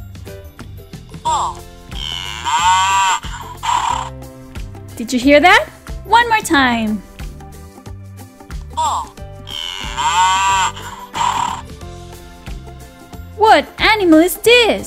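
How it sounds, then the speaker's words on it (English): A bull's moo plays from a children's farm-animal sound book: two long, loud lowing calls separated by a narrator's voice, with speech before and after each. "Now let's listen to the sound of the bull."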